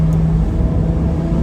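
Porsche 718 Spyder with a Kline exhaust, valves open, gives a loud, deep, steady engine rumble, heard close and continuous for a brief moment.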